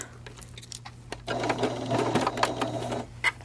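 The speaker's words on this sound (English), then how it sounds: "drop the presser foot. Start with the back stitch." A sewing machine stitches a zipper seam, starting with a back stitch. After some light clicks and handling noises, a loud, steady mechanical whir runs for about two seconds, then stops.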